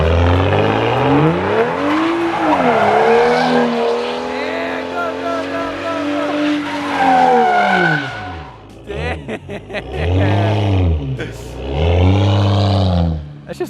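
A turbocharged, straight-piped BMW E92 does donuts in a big open area, its engine revving loudly in rising and falling sweeps with tire squeal, up close, while people talk over it.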